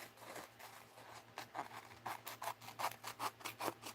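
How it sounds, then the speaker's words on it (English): Paper being trimmed for an art journal: a run of short, crisp rasping strokes picking up speed and growing louder toward the end, close by and heard alone with no talking. "I'm just going to trim this off"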